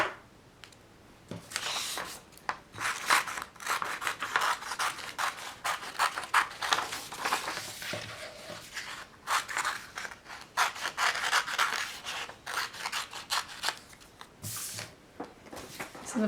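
Scissors cutting a faux fur pattern piece, close repeated snipping and rasping through the fabric in an irregular rhythm, with soft rustles between cuts.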